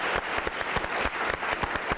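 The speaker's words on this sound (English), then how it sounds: "Give her a round of applause, folks." Audience at a Tennessee gubernatorial debate claps, a moderate patter of individual hand claps that stays fairly sparse and steady over a couple of seconds.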